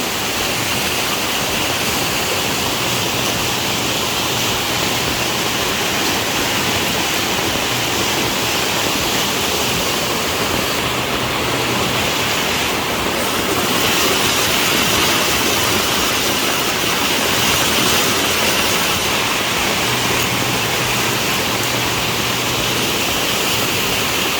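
Rushing water pours loudly and continuously, a dense broadband roar that stays steady and close for the whole stretch, with no talking.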